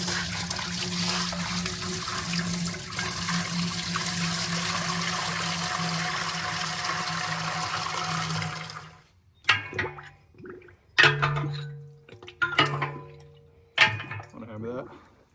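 Water drains from a pressure canner with a loud, steady rushing gurgle for several seconds. The flow then stops and scattered drips and splashes follow, with brief talking.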